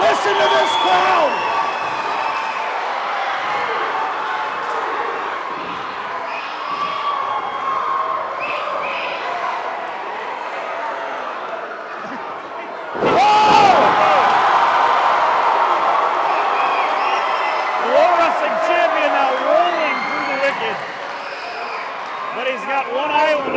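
A wrestling show crowd roars and cheers throughout, swelling suddenly into a loud burst midway, with a commentator talking over the noise.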